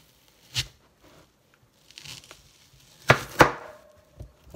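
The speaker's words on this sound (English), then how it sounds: "now that you have this, you want to cut your onion" A knife slices through an onion on a cutting board, giving a few sharp, close crunching chops spread across a quiet moment, with two strong cuts near the end.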